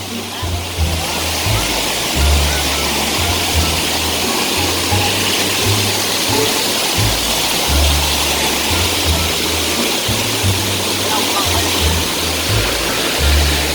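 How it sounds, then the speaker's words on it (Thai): A loud, continuous roar of Tad Xe Pha waterfall in Attapeu, southern Laos, close and steady, with a deep rumbling undertone throughout. "ตัวนี้เป็นตาดหน่อย"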